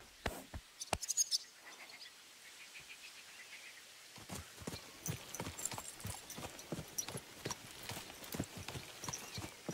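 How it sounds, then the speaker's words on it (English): In the video game Kingdom Come: Deliverance II, a horse's hooves clip-clop in a steady walking rhythm close by, after a few sharp opening knocks, with faint insect and bird ambience behind. "This must be the ugliest horse I've seen in my life."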